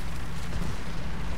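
A KV-1S tank cannon booms in the War Thunder video game, a continuous loud, low rumbling blast lasting the whole moment with no talk over it.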